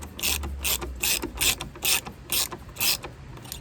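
A hand ratchet clicks in quick bursts while bolts are tightened during a home service of a VW Golf, close and fairly loud, with about eight evenly spaced strokes.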